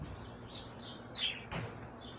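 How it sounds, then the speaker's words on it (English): Small birds chirp in short, faint high calls on a downtown street in Bartow, Florida, with a couple of slightly louder tweets standing out over the low murmur of the street. "Oh, look at the bird."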